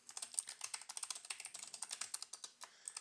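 Rapid, steady clicking of keys on a computer keyboard during a Windows client login at a lab workstation, with roughly thirty close, crisp keystrokes in about three seconds and no talking.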